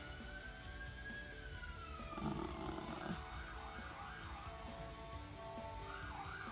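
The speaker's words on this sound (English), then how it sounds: "there's a ambulance or fire truck outside making noise." An ambulance or fire truck siren wails outside, its rising and falling tone faint and distant beneath a dense background hum, with no one talking.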